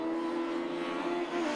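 A race car engine on an Irish championship circuit drones with a steady, sustained tone that holds at a fairly even pitch, close and continuous with no talk.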